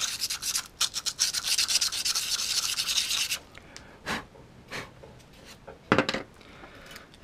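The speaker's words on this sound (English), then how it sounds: "I'm going to just lightly use some sandpaper to just buff where I'm going to stick it." Sandpaper lightly buffing a surface while building a ghost detector, heard as close, steady scratchy rubbing for a few seconds, then scattered brief scrapes and taps.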